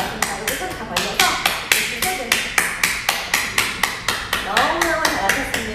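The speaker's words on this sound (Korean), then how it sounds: "박수 한번 세게." A group claps hard and in unison during a morning exercise session for sciatica, sharp regular claps about three per second, loud and close, continuing steadily for several seconds while an instructor's voice talks over them.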